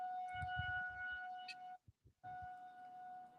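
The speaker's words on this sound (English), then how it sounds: "And the school's right behind me, so that siren's really loud." A loud siren from a school close by holds a steady two-tone wail, cutting out briefly near the middle before resuming at full strength, with low thumps underneath and no talking.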